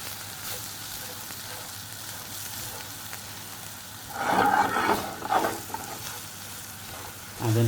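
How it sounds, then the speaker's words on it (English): Plain flour and onions cook in a pan while being stirred, giving a steady soft sizzle and frying hiss throughout, with a louder burst of scraping and stirring midway and another at the end. "So we're gonna cook our plain flour with the onions."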